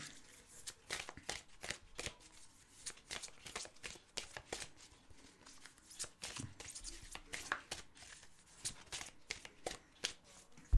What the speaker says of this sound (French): Hop, je vais mélanger un petit peu le paquet.